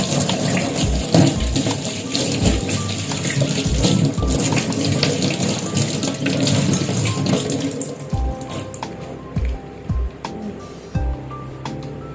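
Kitchen items washed under a running tap, water gushing and splashing steadily in a sink, loud and close, thinning to intermittent splashes and knocks near the end, no voices.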